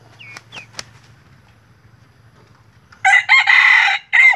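A bantam crossbred with red junglefowl crows loudly and close by near the end, after a few soft clucks and quiet background sounds.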